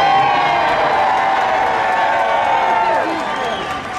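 A large outdoor crowd at a religious freedom rally in Chicago cheers and applauds in a dense, sustained roar of clapping and whoops that gradually tapers off.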